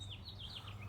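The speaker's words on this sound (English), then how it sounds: "You can hear the birds singing early in the morning." Early-morning birdsong outdoors among trees: a few faint, high, wavering chirps repeating over a low steady background hum, distant and soft for about a second.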